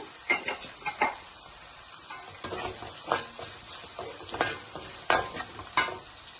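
A pan of dal tempering for methi dal, with turmeric and asafoetida, takes in fenugreek leaves. There is a soft frying sizzle under repeated scraping and clinking of a spoon against the pan, with sharp scrapes spaced roughly every half second.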